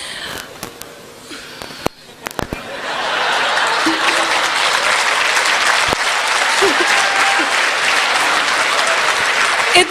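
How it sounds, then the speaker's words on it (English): An audience at a 2012 national seminar applauds a guest speaker, a few scattered claps quickly swelling into loud, sustained clapping that fills the hall and continues steadily to the end. "I'll keep standing here for half an hour, keep getting all the claps."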